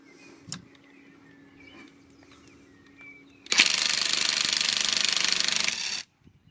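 PARKSIDE X20V TEAM 20V cordless impact wrench trying to loosen a bolt: after a quiet stretch with faint clicks, a loud, close, rapid hammering burst lasts about two and a half seconds, then stops abruptly.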